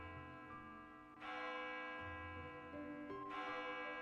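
Church-like bell in a VR roleplay game rings in two loud struck tones with lingering resonant hum between them, fairly quiet overall and without speech.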